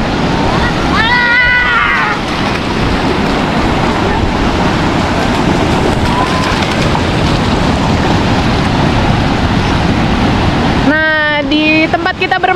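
Ocean waves at Pulau Merah beach in southern Banyuwangi, a continuous loud roar of surf washing in with wind buffeting the microphone, while voices speak over it at the start and end.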